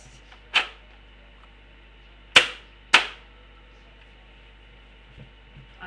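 A Busby Rapid Fire Rifle BB gun fires three sharp, snappy shots nearby, one on its own and then two more in quick succession, each ending in a brief decay, with quiet in between.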